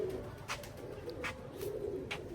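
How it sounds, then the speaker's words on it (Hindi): Pigeons kept by a fancier, including a hen of a fancy breed, cooing in low soft repeated calls under a steady background murmur, with a few brief sharper chirps breaking through. "ये लाला जी वाले कबूतरों में से है।"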